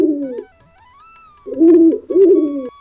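Cartoon birds call in a short sequence of cooing, hoot-like notes with a rising whistle between them, loud and clear with no talk over it.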